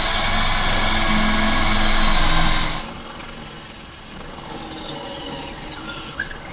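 A power drill with a very long bit bores a pilot hole through the exterior wall of a building, whirring loud and steady for under three seconds before cutting off, leaving quiet room noise behind.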